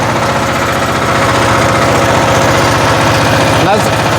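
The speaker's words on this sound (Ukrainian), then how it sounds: "Вмикаю швидкість і ось так рухаюсь." A diesel walk-behind tractor engine thumps loudly and steadily close by as the machine moves in gear, a fast, even low rumble with no pauses.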